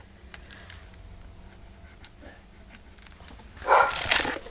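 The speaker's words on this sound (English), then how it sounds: "That's my dog being naughty because she hears my husband has come back home." Near the end of a quiet indoor stretch with faint tapping, a dog lets out a short, loud burst of barking, close to the microphone.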